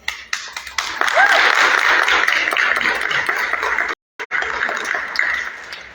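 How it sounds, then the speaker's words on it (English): Audience applause at a Bangladesh independence day celebration inside City Hall, a loud continuous patter of many clapping hands that cuts out abruptly for a brief moment and then resumes. "So a huge thank you and round of applause."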